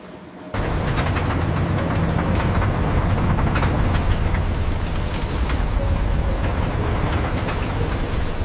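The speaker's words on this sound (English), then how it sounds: "The outer rim of the train wheel is expanded using a ring rolling machine" Ring rolling machine expanding the outer rim of a giant forged train wheel in a railway wheel factory, a loud continuous heavy industrial rumble and grinding roar that starts abruptly and holds steady throughout.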